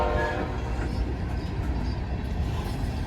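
An empty BNSF coal train rolls past at steady, close range, its broad rumble and rail noise continuous throughout with no pauses.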